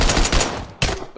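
A pump-action grenade launcher fires in quick bursts, loud and close, with a sharp boom, a short decaying tail, then a second blast.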